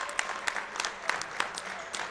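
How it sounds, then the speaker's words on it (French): Scattered clapping from the crowd at an amateur men's basketball game, soft and fairly sparse, with sharper individual claps standing out over a low murmur. "Il sort sous les applaudissements."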